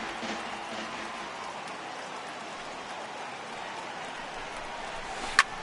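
Rain falls on the ballpark in MLB The Show 2022 as a steady, moderate hiss throughout, with a brief sharp click near the end and no talking.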